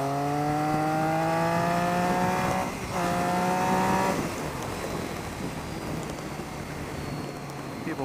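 A Triumph Street Triple motorcycle rides down a twisty road in Ohio, its engine note climbing steadily through the gears, briefly dipping and then carrying on as a loud, continuous close-up drone.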